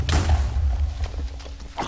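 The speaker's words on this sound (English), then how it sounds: "Lots of explosions." Dull, heavy thuds of Minecraft explosions boom close and loud, one big blast at the start followed by softer rumbling impacts and a final thump near the end.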